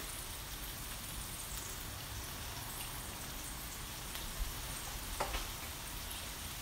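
Garlic sizzling on a Blackstone griddle gives a steady, faint, hissing crackle throughout, with a few small pops near the end and no talking.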